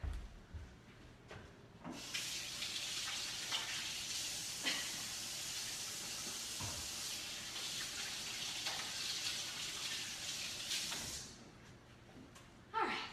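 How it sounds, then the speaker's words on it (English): Hands washed under a running kitchen tap while making a marbled pumpkin cheesecake, a steady close hiss of water lasting about nine seconds with a few clunks, then cut off. "Let me wash my hands and I'll do a closer up for you."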